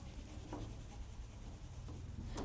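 Faint scratchy strokes of writing as a maths solution for a class 10 polynomial problem is written out. The short strokes come in quick bursts, close by and quiet, with no talking.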